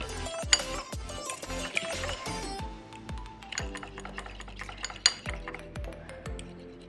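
Duck eggs whisked with a pinch of salt in a bowl, giving a quick run of close, sharp clinks and taps of utensil against the bowl in an uneven rhythm, with no voices.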